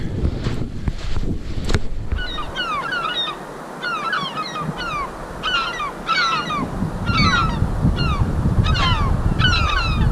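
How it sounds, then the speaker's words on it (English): Gulls call repeatedly overhead by the water at The Anchorage Provincial Park, harsh squawking cries in uneven bursts, over gusting wind buffeting the microphone. "I've angered the seagulls."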